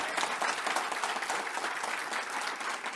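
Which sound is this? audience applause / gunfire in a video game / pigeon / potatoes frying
audience applause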